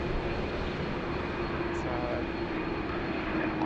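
An airliner takes off from Sydney bound for Cairns, a steady, fairly faint engine roar with a low hum, and someone talks over it.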